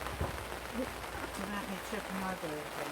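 Rain falls outside in a steady, hissing wash that fills the background while a person speaks over it close by.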